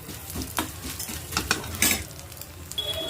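Garlic cloves and curry leaves frying in oil over a low flame, a soft, continuous sizzle broken by a few sharp spatter pops and light scraping of a spoon in the pan.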